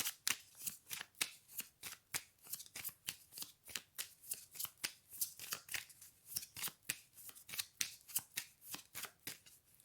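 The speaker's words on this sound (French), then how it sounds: "on dit qu'on tire une dernière carte" Belline oracle cards are shuffled and drawn by hand in a quiet room. The papery riffling repeats at an even rhythm, roughly three strokes a second for about ten seconds, soft and close.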